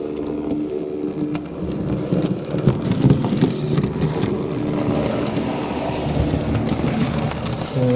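A Hornby Grange class model locomotive runs over model railway points, making a continuous close mechanical whir with rapid clicking wheel-and-rail clatter and a few sharper knocks as it crosses.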